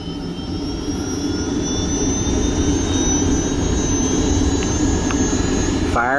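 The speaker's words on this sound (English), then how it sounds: "Firing up the NOTAR" A NOTAR helicopter, a rare type with no tail rotor, fires up its turbine engine: a loud, steady jet-like roar with a high whine that holds close and constant throughout.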